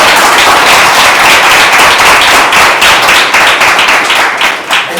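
A crowd at a Nigerian film talk session claps loudly and steadily for about five seconds, dense overlapping hand claps close up that thin slightly near the end.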